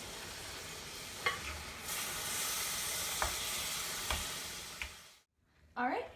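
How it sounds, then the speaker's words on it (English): Milk, sugar and butter being stirred together with a wooden spoon for no-bake cookies, a soft steady sizzling hiss with a few spoon knocks. The sound fades out near the end before a brief rustle. "Next, we're gonna add the half a cup of milk and then stir it all together with our wooden spoon"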